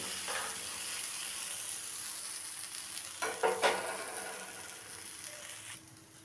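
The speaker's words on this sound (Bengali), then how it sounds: "পরোটা বেলে আমি দিয়ে দিলাম। এখন আমি ভেজে নেব।" Sweet corn cheese paratha fries on a hot tawa with a steady, moderate sizzle, and a brief cluster of louder crackles or spatula touches breaks in midway. No one speaks.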